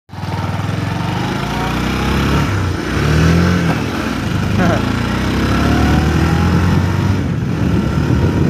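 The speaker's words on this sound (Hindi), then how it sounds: "तो चलो गाइज मैं आपको बाइक थोड़ी सी राइड करके दिखाता हूँ कैसी ये भाग रही है" A motorcycle engine runs steadily and fairly loud through a short test ride, with its note shifting as the bike pulls away and varies throttle. The drone carries on throughout with no speech over it.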